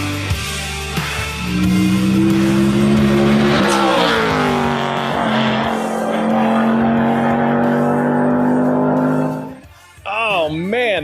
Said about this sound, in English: Those car sounds from Jimmy Ford at the Pikes Peak International Hill Climb.